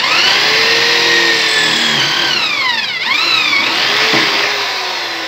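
A drill boring through a knife blade, a loud continuous whine with pitch sweeping down and back up as the bit bites into the steel, alone without talk.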